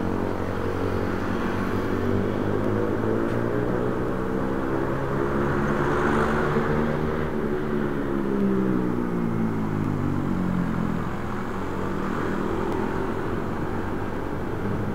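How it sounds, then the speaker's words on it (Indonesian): A group of motorcycles rides past on a mountain road on the way to Bromo via Malang, a continuous loud engine drone with rising and falling harmonics as the bikes pass close by, without speech. "suaranya motor dalam rombongan itu cukup berisik ya"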